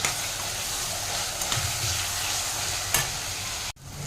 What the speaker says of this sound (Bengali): আমি এবার চিকেন কিমাটাও অ্যাড করে দিচ্ছি।